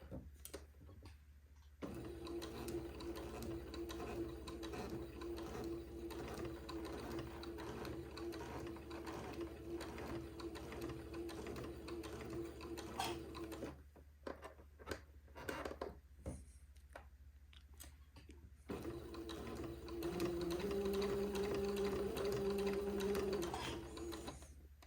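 A domestic sewing machine stitches a baby girl's layette garment in long steady runs, its even mechanical whir broken by a short pause midway before the stitching resumes, close and clear with no talk.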